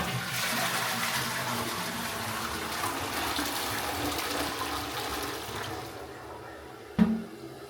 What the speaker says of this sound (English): You asked me to flush this?